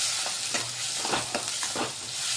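Spice powders, chili powder and salt being stirred together in a pan, with soft repeated scraping strokes over a steady sizzling hiss, close and moderately loud, no talk.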